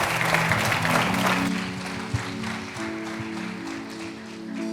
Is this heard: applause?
yes